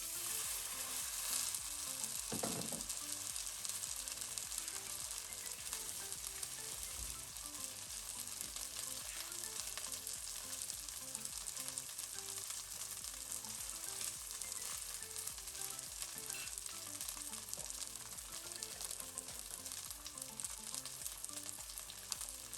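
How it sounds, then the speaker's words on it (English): Chicken pieces fry skin side down in a frying pan, a steady broad sizzle that holds evenly throughout, with an occasional clink of chopsticks and no talking. "I'm gonna put the chicken in my frying pan. So the skin side down first."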